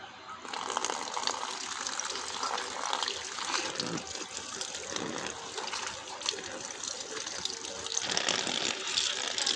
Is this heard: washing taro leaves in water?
yes